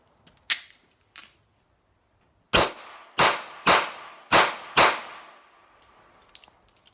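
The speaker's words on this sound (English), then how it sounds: "Let's do a rapid fire test." A Glock 42 .380 pistol firing Fiocchi ammunition, with two sharp shots, a pause, then a rapid string of five loud cracks, each followed by a brief ringing metallic decay, and a few faint clinks of brass at the end.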